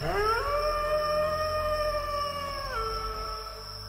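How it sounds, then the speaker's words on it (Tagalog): Howling of asbo creatures, a drawn-out wavering howl with several tonal layers rising then sustaining for a few seconds before dropping, over a low background drone. "At alulong pa ng mga mangilan-ngilan na asbo."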